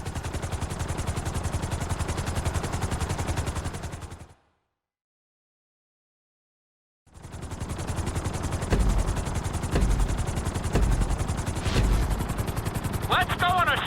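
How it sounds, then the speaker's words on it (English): A helicopter in the video game GTA 5, its rotor giving a loud, rapid, steady chopping throb that cuts out briefly to silence, then returns with some sharp bangs and clatter mixed in. "we're gonna put you in a helicopter for this lesson"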